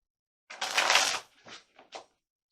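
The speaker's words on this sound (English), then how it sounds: "Getting some tarot cards." Tarot cards are riffled and shuffled in one quick, close, crisp flurry, followed by a few softer taps as the deck is squared up.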